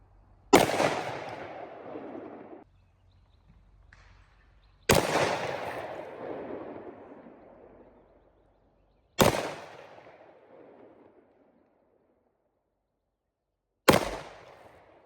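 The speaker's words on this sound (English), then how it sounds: "we're going to shoot a milk carton here and just see how they react to it" Four loud, sharp 10mm pistol shots from a Kimber DS Warrior fired at milk cartons outdoors, each a single crack with a long decaying echo, spaced several seconds apart with silence between.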